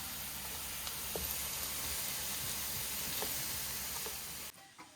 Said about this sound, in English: now I'm gonna add all of my Italian sausage, and I'm gonna break it all up, and we're gonna cook this until it's all browned.